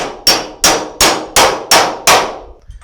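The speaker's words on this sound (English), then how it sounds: "take a hammer and beat this bad boy on there" Six loud, evenly spaced hammer blows ring out on a metal socket extractor, each a sharp clang that fades quickly, followed by a faint rattle.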